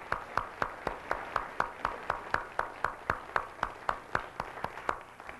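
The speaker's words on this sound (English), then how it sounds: "whom I think deserve a special round of applause for their own participation" Sharp, evenly spaced claps ring out about four times a second in a steady rhythm, a small college talent show audience of 1992 applauding with no voices over it.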